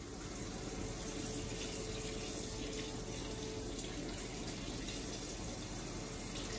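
A kitchen or bathroom tap running steadily for hand washing at home, a constant faint hiss of flowing water with no breaks and no talk.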